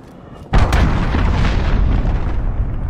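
A missile blast in Call of Duty: Modern Warfare erupts suddenly and loud after a quiet moment, then rolls on as a heavy, rumbling roar that fades only slightly over the following seconds.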